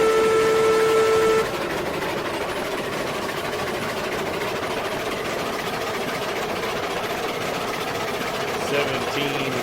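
A steam train hauling sixteen cars in the video game RailRoads Online chugs along with a steady mechanical rumble, an opening whistle-like tone cutting off after a second or so, then continuous even engine noise.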